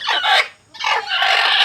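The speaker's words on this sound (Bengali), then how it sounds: "দুজনে বসে বসে ডাকছে কিন্তু বেরোচ্ছে না।" Two hens call from inside their coop: two close, loud bursts of squawking clucks separated by a short pause, with no talking.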